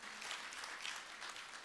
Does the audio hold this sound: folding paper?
no